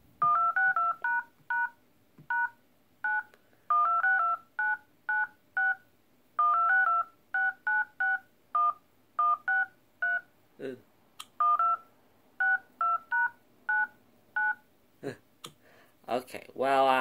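Phone dial pad tones tap out a song's melody as a steady run of short, evenly spaced beeps with brief pauses, followed by a few clicks and bumps near the end.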